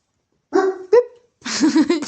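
A dog barks and yips in a few short, close bursts, with a pause before a longer, louder run of barking at the end.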